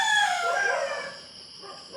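A rooster crows near a chicken coop, one long drawn-out call starting loud and fading away over about two seconds, with no talking.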